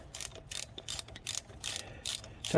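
Ratchet tightening brake block bolts on a 1997 Ford Mustang whose emergency brake won't release, a series of loud, close clicking bursts repeating every half second or so.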